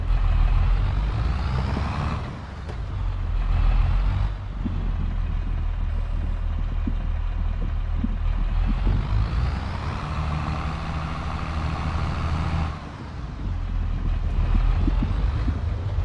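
A farm tractor engine runs steadily outdoors, a deep continuous rumble with wind buffeting the microphone and slight swells in intensity over time, with no voices.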